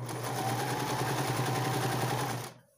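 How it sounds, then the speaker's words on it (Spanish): A sewing machine runs a fast, steady overstitch to pleat fabric for a child's puffed-sleeve dress, whirring close and even for about two and a half seconds before stopping abruptly. "a esta sí le voy a poner así una sobrecostura para plisarlo a 1 centímetro"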